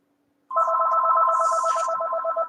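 A telephone starts ringing after a brief silence, a close, loud trilling bell that warbles continuously.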